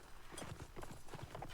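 Horses gallop during a cavalry battle in a video game, with a quick, uneven run of hoofbeats, muffled and fairly faint.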